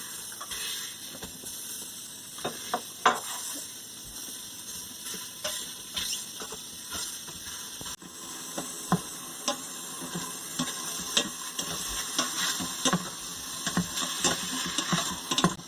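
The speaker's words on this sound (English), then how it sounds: "We'll go ahead and brown the sausage." Sausage, a pound of it, browns in an Instant Pot on saute, giving a steady low sizzle with scattered scraping and tapping from a utensil stirring the meat, close and fairly quiet, with no talk.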